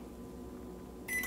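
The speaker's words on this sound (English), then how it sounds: "It immediately starts to microwave the cup of coffee" Amazon Smart Oven, an Alexa-controlled microwave air fryer, starting up to reheat a cup of coffee: a soft low hum with a brief high tone as it begins, quiet and close.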